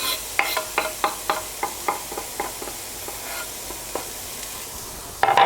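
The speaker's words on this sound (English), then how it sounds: "So it starts sizzling." Food sizzles steadily in a hot pan, a constant hiss broken by a series of regular scraping strokes from a spatula, close up.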